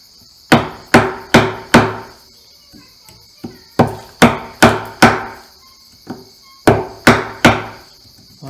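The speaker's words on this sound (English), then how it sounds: "I'm letting the chisel do the work in the mallet." Sharp wooden mallet blows drive a chisel into pine to cut a timber-frame mortise, coming in quick bursts of four or five evenly spaced strikes separated by short pauses, close and crisp, with a steady insect buzz behind.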